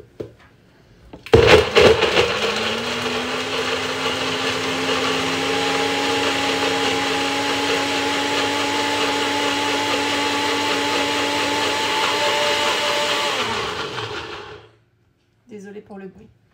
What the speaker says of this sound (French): Vous mettez dans un robot, dans un blender et vous venez mixer.